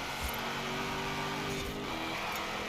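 Rover B-class car in Forza Horizon 4 racing on a track, its engine holding a steady drone with harmonic lines that rise and dip slightly as revs shift, fairly loud and continuous with no talk.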